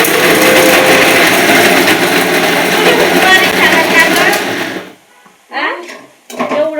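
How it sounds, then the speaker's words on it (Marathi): A mixer grinder whirs loudly and steadily while grinding fresh green peas in a home kitchen, then cuts off, leaving brief rattles and a few scraping sounds. "आणि म्हणलं बघ आता वाटून घ्यावा."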